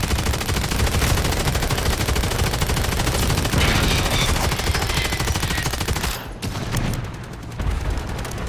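Sustained rapid automatic gunfire in Call of Duty MW3 during a Shipment mass event, loud and dense with overlapping bursts that continue nearly throughout and thin briefly near the end.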